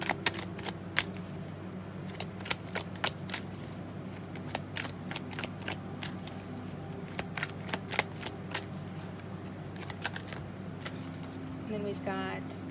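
A tarot deck shuffled by hand in a reading, producing repeated sharp card flicks and riffles in an irregular rhythm over a soft hum, close and clear, with a brief burst of faster flutters near the end.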